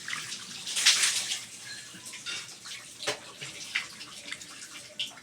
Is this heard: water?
yes